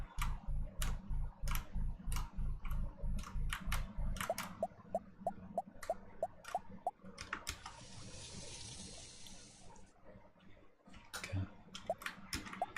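Deep, bassy synthesized footsteps from a Yume Nikki fangame, a steady rhythmic run of thuddy steps that stops midway, followed by sparse ticking blips and a brief hiss of noise.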